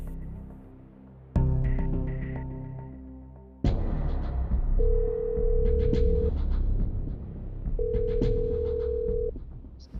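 A phone call is placed and rings out: repeated electronic ringback tones pulse in two long beeps over a rumbling room background, after an initial burst of dialing and button sounds.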